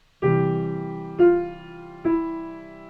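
Three piano chords struck one after another, each ringing and decaying before the next, clear and close with no talking.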